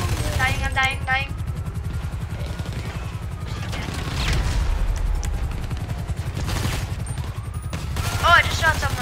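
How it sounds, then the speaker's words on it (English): Gunfire in GTA 5 during an online session with a monster truck, rapid bursts of shots and booms over a constant engine rumble, with a player talking over the action. "Oh, I just shot someone. I'm shooting the shooter."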